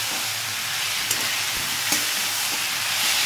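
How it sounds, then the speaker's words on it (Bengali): Cauliflower pieces being stirred and lightly fried in a pan, a steady loud sizzle with a couple of brief scraping knocks of the spoon, no talking. "কপিটা দিয়ে দিচ্ছি। এটা দিয়ে এবার আমি একটু নাড়তে থাকবো,"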